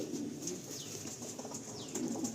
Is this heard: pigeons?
yes